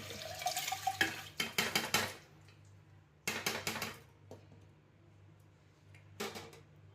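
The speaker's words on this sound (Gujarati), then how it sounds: "આ રીતે થોડું પાણી જે લીધેલું છે એને પણ એડ કરી દઈશું।" Water poured into the hot tempering for masala khichdi with pigeon pea dal in a pot over a low gas flame, giving soft splashing, sizzling bursts with light clatter, separated by quiet pauses.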